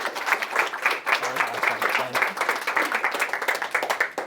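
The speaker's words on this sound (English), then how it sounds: "Let's give these guys a round of applause." An audience applauds a group of students, brisk many-handed clapping that stays even and lively throughout, with a brief low voice murmuring underneath near the middle.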